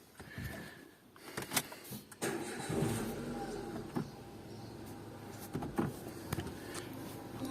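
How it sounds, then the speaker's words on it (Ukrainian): A 2007 Renault Scenic 2 with a 1.6 petrol engine cranking and starting, several sharp clicks and knocks before the motor catches and settles into a steady idle hum nearby. "Автомобіль заводиться гарно, що на холодну, що на гарячу."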